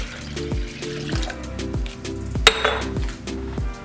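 Water is poured into a horchata mixture in a kitchen, with a trickling pour, a sharp clink of a container partway through and scattered knocks and taps of kitchenware around it.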